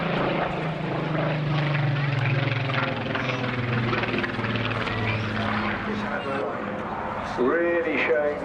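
A Spitfire Mark 19 piston-engine fighter flies past at an air show, its steady propeller drone and engine rumble carrying across the sky, with a commentator's voice over the public address.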